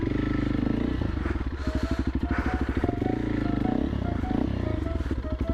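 A 2024 Honda CRF 300L dirt bike stuck on a small log on a trail, its engine revving in a steady pulsing drone as the rear tire spins, close and loud, with clattering and a voice briefly over it.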